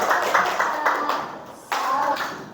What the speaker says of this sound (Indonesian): beri tepuk tangan untuk masing-masing ya